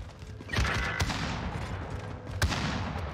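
Rapid bursts of video game gunfire from an online shooter match crackle in quick volleys, sharp and close with a couple of louder shots standing out, and no talk over them.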